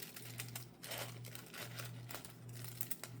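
Pinking shears snip across the bottom of a folded paper bag, giving faint crisp cuts and paper crinkles in an uneven rhythm over a low steady hum.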